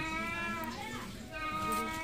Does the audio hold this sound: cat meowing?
yes